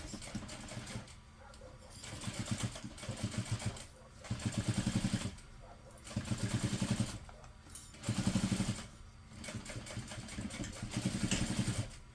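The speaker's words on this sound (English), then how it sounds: "just going to sew this closed using 1/8 of an inch seam allowance" A sewing machine stitches a seam closed at a 1/8 inch allowance, running in several bursts of steady, close mechanical whirring separated by short pauses.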